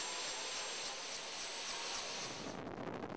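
A Philippine Air Force helicopter engine gives a loud, steady turbine roar with a high whine, easing slightly near the end.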